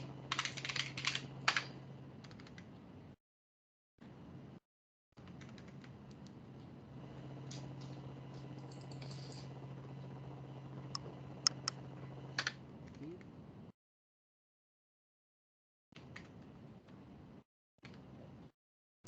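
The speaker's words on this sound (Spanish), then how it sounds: "datos por teclado." Steady keyboard typing as data is entered on a computer, a quiet run of close, rapid key clicks that stops and starts in short bursts with silent gaps between.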